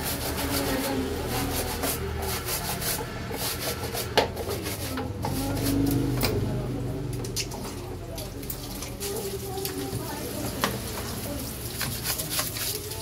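Dirt is brushed off the fan motor of a Toyota Avanza car, giving a steady close rubbing and scrubbing over a low rumble, with a few sharper scrapes and taps along the way.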